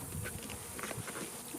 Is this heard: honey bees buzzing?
yes